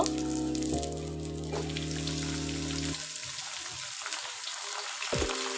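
Bottle gourd greens fry in a pan with onion and green chilli, making a steady, close sizzle and crackle under a low background hum that fades partway through.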